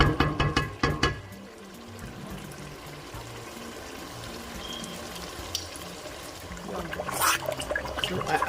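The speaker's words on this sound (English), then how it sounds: "So I added a cup of water until the consistency was so thick." Water is poured into a simmering croaker fish stew, a continuous splashing pour with clattering at the start and a brief louder gush near the end, close up and without talk.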